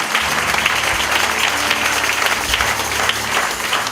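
A church congregation applauds the Lord with loud, sustained clapping that fills the space evenly from start to finish, no voices standing out.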